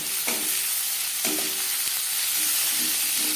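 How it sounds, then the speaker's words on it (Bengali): Chopped onion and tomato sizzle in a pan of oil left over from frying tilapia, a constant loud hiss broken by a few soft utensil scrapes. "পেঁয়াজ টমেটো হালকা করে ভেজে নেব"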